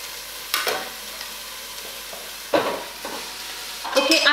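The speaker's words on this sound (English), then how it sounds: "My red cabbage is shredded, so I'm just going to add that into the pan." Shredded red cabbage tipped into a pan of cooked onions, a few short scraping stir bursts with a light sizzle between them, close and moderately loud, no voices.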